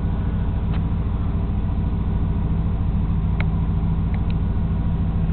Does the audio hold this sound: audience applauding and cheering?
no